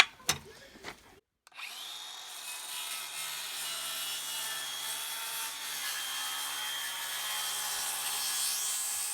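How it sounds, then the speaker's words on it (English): A power tool cuts the bevel off the end of a timber beam during timber framing, starting with a few short bursts and knocks, then a brief pause, then a sustained, steady close cutting whine through the wood. "But now I'm gonna cut the bevel off of this end while I'm here."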